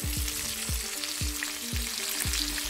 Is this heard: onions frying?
yes